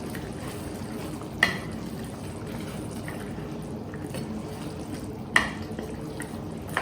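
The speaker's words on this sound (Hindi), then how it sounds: "तो पकाने के लिए लेट्स ऐड मोर वाटर।" Water runs steadily into a pan of large potato chunks cooking for an aloo paneer sabzi, a continuous pouring wash with two brief clinks, no one talking.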